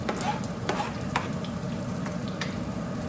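Garlic and onion sauté for pinakbet in a hot pan, a steady close sizzle with occasional stirring scrapes and spatula taps throughout.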